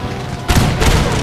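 Cannon artillery fire in Empire: Total War, a Napoleonic-era battle game, with quieter battlefield rumble giving way to a loud booming barrage that keeps going.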